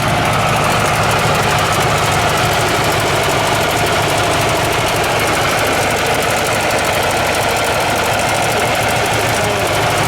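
A classic Panhard PL17 engine runs steadily on its rubber mounts, a loud, close, continuous mechanical chatter and hum with no break throughout.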